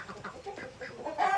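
Soft clucking from a rooster, a series of short low calls at an uneven rhythm, fairly faint and nearby.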